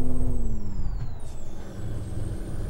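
Truck engine in Euro Truck Simulator 2, hauling a bulldozer, drops its pitch through a downshift under a steady low diesel drone, with a loud close rumble throughout and gliding whine tones.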